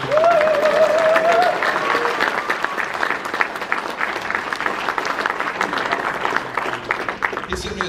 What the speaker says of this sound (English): How about a round of applause for Mr. Briscoe?